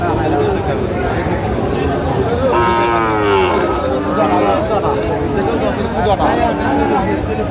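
A Sahiwal bull at a crowded cattle market in Sirajganj lets out one drawn-out moo midway through, heard over a steady hubbub of people chattering and bargaining nearby.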